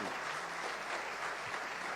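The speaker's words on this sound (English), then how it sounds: "a big round of applause for Sanjeev Bajaj" An audience applauds Sanjeev Bajaj at an interview event, a dense, steady wash of many hands clapping that holds at an even level for the whole stretch.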